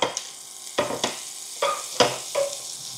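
Butter dropped into a little hot oil in a pan crackles in several sharp bursts, each flaring up and then settling into a quieter sizzle, close up and with no talking.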